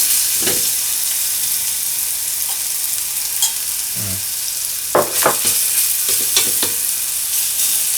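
Garlic fries and sizzles in a pan while being stirred, a steady close hiss broken by occasional clinks and scrapes of a utensil.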